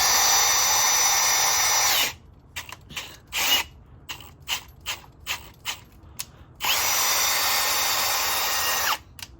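A power drill bores M12 head stud holes into a BMW M54B30 engine block, whining steadily for a couple of seconds, then pulsing in short bursts, then running continuously again before stopping.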